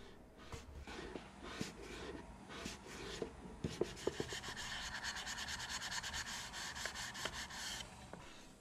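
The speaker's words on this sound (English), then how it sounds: "This kind of imperfection will disappear with a little bit of sanding and rounding over these edges." Wooden keepsake box being sanded to round over its edges and remove imperfections, a steady rasping rub with repeated strokes and a few sharper scrapes, close and continuous.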